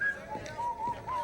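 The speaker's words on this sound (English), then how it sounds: "I've listened to that man's whistling every time he leaves the office" A man whistles a tune while leaving an office, a few faint, wavering melodic notes in short phrases over quiet background noise.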